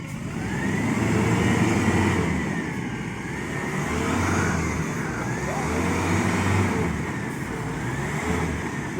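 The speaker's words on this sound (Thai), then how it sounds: "ได้หารถไถมา" A farm tractor arrives to pull a vehicle stuck in mud in front of a house, its steady mid-range engine drone continuous and fairly loud throughout with slight surges, under faint background voices.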